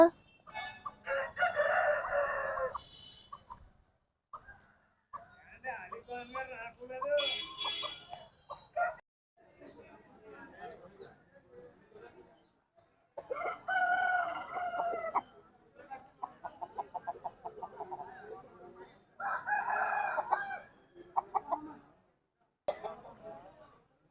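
Roosters crow repeatedly at a Saturday country chicken market in Mamidada, each call a loud burst separated by pauses, with hens clucking and people talking nearby.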